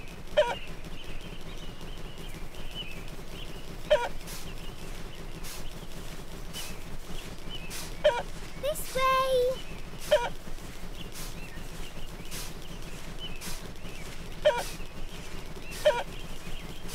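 Cartoon chickens clucking and honking in a Peppa Pig video game, with short bird calls repeating every few seconds over a quiet background loop, plus a brief chirpy game effect, no speech.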